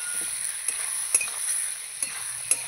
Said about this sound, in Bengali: ভালো করে নাড়াচাড়া করে নিয়ে আলু ডাঁটার সঙ্গে মশলাটা কষিয়ে নেব।